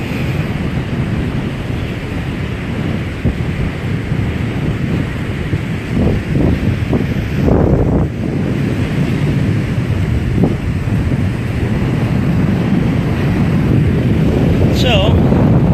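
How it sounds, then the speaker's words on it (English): Strong west wind buffeting the microphone with waves crashing at Clearwater Beach the day after Hurricane Irma, a loud constant roar with surges of surf throughout. "And the wind just keeps getting stronger. These are huge waves for us."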